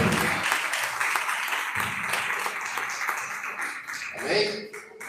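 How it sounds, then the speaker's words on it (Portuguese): A church congregation applauds during a family worship service, a broad wash of clapping that holds steady for several seconds and thins toward the end. "as palmas serão para você"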